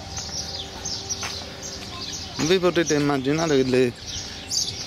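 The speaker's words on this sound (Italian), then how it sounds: "gli uccellini che cantano" Small birds sing in a hotel garden in Marrakech, with chirps and tweets in the background while someone speaks Italian close by.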